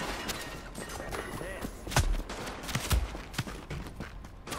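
Scattered gunshots ring out in the video game Tom Clancy's The Division, some sharp and some distant, popping over a busy background of combat noise while a voice talks intermittently.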